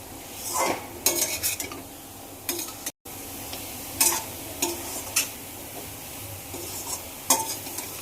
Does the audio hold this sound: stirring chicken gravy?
yes